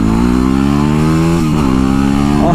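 A dirt bike engine accelerating hard, loud and close, its buzzing tone climbing steadily in pitch with a brief shift midway before revving higher again, no talking.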